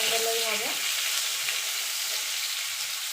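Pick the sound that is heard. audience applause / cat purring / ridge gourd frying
ridge gourd frying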